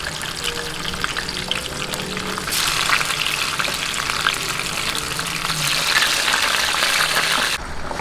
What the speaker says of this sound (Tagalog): mainit na po yung ating mantika. I-half cook lang po natin itong ating bangus.